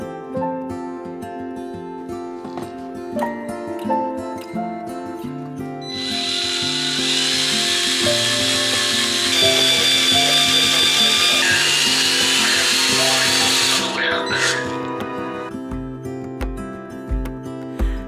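A drill runs steadily for several seconds while making a custom lamp shade in a home office makeover, entering and stopping over background music.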